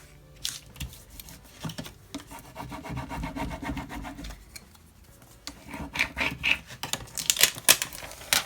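Transfer tape being rubbed firmly onto glitter Cricut Joy vinyl, giving close, scratchy, rasping strokes in irregular bursts, with brief pauses and sharper scraping toward the end.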